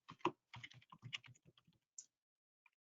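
Quick bursts of keystrokes on a computer keyboard while entering an electronic signature on a scholarship application, close and crisp, with a short run of taps followed by a few isolated clicks.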